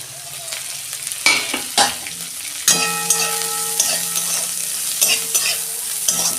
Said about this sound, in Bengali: ওই তেলেতেই আমি পেঁয়াজ দিচ্ছি, পেঁয়াজ আর কাঁচা লঙ্কা।